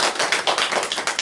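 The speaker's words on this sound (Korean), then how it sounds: "박수 한번 쳐주십시오." A small audience at a Buddhist temple lecture gives a brief burst of clapping, a quick patter of close hand claps with no voices.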